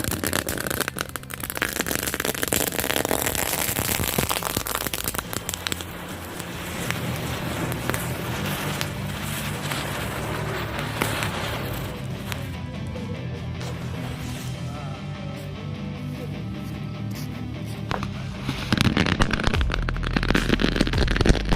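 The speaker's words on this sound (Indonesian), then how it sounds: "ada 3 bungkus petasan gangsing. Kita nyalakan di dalam toples." Three packs of spinning firecrackers and a smoke ball go off inside a closed jar, making a continuous loud hissing crackle with rattling bursts that lasts about twenty seconds with no talk.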